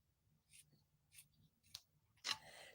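Scissors snip through paper in a few short, quiet cuts spaced apart, followed by a louder rustle of paper.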